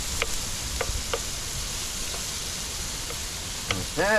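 Sweet onions sautéing in a pan at a campground cook-out, a steady broadband sizzle with a few stirring clicks, a short spoken phrase near the end.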